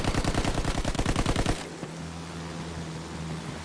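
Rapid automatic gunfire from the video game Battlefield, loud and dense bursts for about a second and a half before cutting off to a low rumbling engine hum, with no talking.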